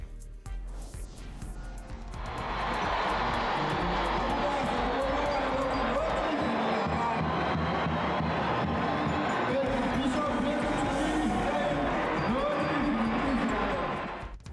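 Stadium crowd roaring at a Zimbabwe Defence Forces unmanned vehicle display, a loud, sustained mass cheer that swells after a quiet opening and holds for over ten seconds before fading.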